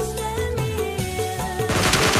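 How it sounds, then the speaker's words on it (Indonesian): Loud, dense PUBG Mobile soundtrack with bursts of rapid close gunfire layered over music, continuous and close, getting harsher toward the end. "di depan ada suara tembakan dekat sekali"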